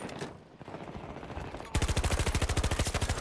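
Crawford rifle fired from the hip in Battlefield 2042: after a short stretch of quieter game noise, a fast, evenly spaced burst of automatic shots rattles out, loud and close.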